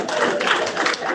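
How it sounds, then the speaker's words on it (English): Brief clapping from a group at an investiture ceremony, a short run of quick, close hand claps blending into a dense patter over about a second. "clap for yourself"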